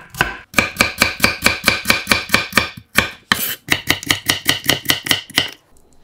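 Two quartered potatoes sliced thin with a knife on a cutting board, a close, crisp run of rapid evenly spaced chops in two bursts with a brief pause between, no talk.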